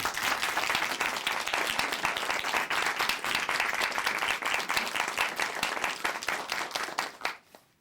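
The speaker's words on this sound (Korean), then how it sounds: "박수로 모실게요" Sustained applause from a church congregation, steady and dense for several seconds before tapering off quickly at the end.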